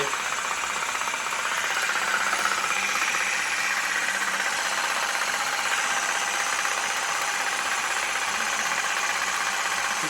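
Homemade DIY paint shaker running at half speed, giving a loud, steady mechanical whir with a fine rattling vibration that holds constant throughout.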